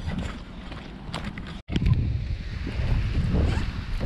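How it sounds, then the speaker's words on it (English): Strong wind buffets the microphone on a Florida shoreline, a loud rumbling roar with a brief dropout, steady gusts continuing throughout. "It is so super windy."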